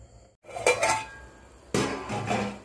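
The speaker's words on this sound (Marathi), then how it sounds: "झाकण ठेवून याला 1 उकळी येऊ" A lid set onto a pot of simmering aamti, two distinct metallic clanks with short ringing decay separated by a quiet pause, close by and without speech.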